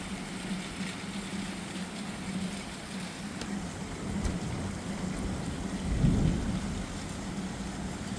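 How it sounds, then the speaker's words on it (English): A thunderstorm in Plymouth, Massachusetts brings steady, dense rain hissing on surfaces, while low thunder rumbles through it and swells to a louder roll partway through. "I think I could hear the rain in the distance picking up in intensity."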